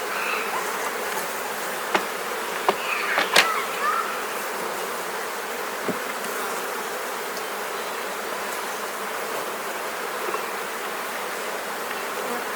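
Honeybees hum steadily in an open hive, a dense continuous buzz close by, with a few faint clicks and knocks of frames being handled around the middle.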